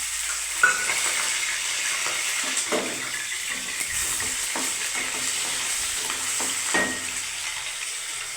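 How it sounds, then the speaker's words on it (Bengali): Raw green banana frying in oil in a pan, a steady sizzle running throughout with occasional soft stirring scrapes and clinks, close and alone with no voices. "প্রথমে বন্ধুরা আমি কাঁচা কলাটাকে ভেজে নিচ্ছি"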